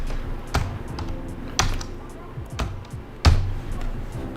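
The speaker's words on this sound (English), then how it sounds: "so I'm gonna type that in up here" Numbers are tapped on a computer keyboard: a handful of sharp, close key strikes spaced about a second apart, with softer taps in between.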